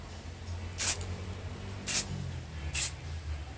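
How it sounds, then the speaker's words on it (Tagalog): Three short hissing bursts of spray paint, evenly spaced about a second apart, misting orange paint onto a fishing lure from a distance, loud and close over a low background hum. "And then spray a little."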